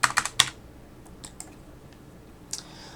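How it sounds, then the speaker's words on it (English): Someone typing a line manager code on a computer keyboard, a quick burst of close crisp key clicks, then a few scattered single taps and a final click, quiet room with no speech. "So we'll just type in the line manager code,"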